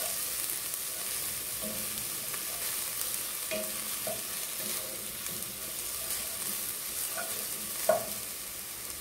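Ground garlic, ginger and chili paste stir-fried in hot oil, a continuous bright sizzle with occasional soft scrapes and taps of a spatula in the pan, no speech.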